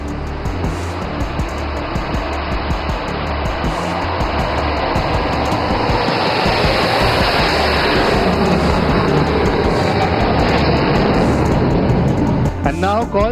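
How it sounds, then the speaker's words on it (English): Sukhoi Su-30 MKI fighter jets approach an emergency landing strip in formation at an air show, a loud sustained engine roar that builds and stays heavy throughout, with a commentator speaking over it. "Coming in hot, approaching the Muran Emergency Landing Facility are the mighty Su-30"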